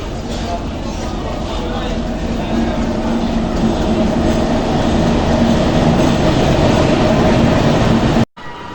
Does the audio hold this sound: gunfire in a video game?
no